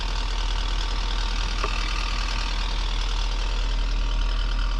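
A tow truck engine idles steadily with its PTO engaged to run the hydraulics, giving a continuous low rumble and broadband hum at an even level throughout.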